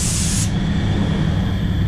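Spray gun hissing as it lays a coat of 2K paint onto an Australia Post van during a red colour change, a steady close hiss that brightens sharply at first and then settles into a duller continuous spray.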